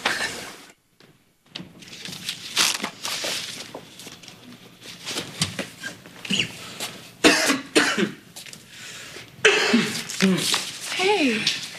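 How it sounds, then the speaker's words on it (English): A person coughs and clears their throat several times amid a soap-opera scene, the rough coughs mixed in and around ongoing conversation between people. "you can't shake that cough, huh?"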